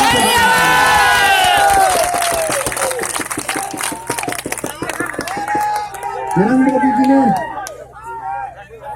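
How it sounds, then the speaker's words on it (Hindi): A crowd at an Aam Aadmi Party rally in New Delhi claps and cheers loudly, with shouts and whistles rising over dense applause and crowd noise, swelling toward the end before easing off. "हाथ तालियां बजाकर बताइए।"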